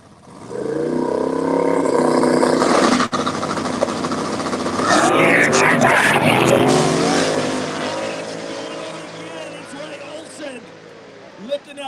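A no-prep drag race car roars down the strip at a woods racetrack, the engine loud and sustained as it revs and passes, with an announcer talking over it.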